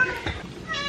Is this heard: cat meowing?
yes